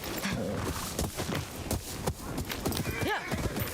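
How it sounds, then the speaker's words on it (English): Rhythmic hoof clip-clops of a trotting horse in the video game Ghost of Yotei, followed by a short high whinny near the end, with a voice speaking over it. "Let's call the horse over, see if..."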